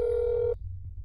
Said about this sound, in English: Let's see if Mia answers the phone, if she's home